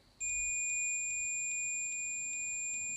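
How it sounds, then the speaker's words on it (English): A steady, high electronic continuity beep from a multimeter sounds continuously and loudly as the probes test the power button of an HP 15-cp laptop. "I'm gonna click on the power button and see if we hear a beep"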